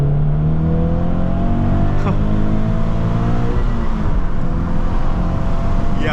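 Manual Toyota GT86 (Scion FR-S) sports car accelerating in first gear, engine tone rising steadily and loud from inside the cabin, with a gear change near the end.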